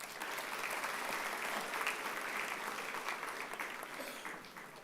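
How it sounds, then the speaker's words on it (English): A large crowd at a CEPT University convocation gives a sustained round of applause, a dense, steady wash of clapping that holds at an even level for several seconds and then begins to fade slightly. "it truly deserves a round of applause"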